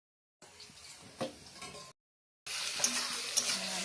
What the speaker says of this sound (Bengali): আদা রসুন দিয়ে এখন কষাচ্ছে।